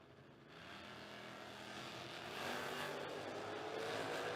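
A Fox Body Mustang from Mechanicsville, Maryland, on a 605 dial, launches down a drag strip and pulls a big wheelie, its engine a distant, steady roar that swells louder midway through.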